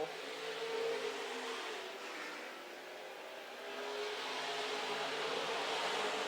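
Super stock race cars roaring around Amsoil Speedway during a heat race, a steady wash of engine noise from the pack that swells and eases, heard from a distance with no voices.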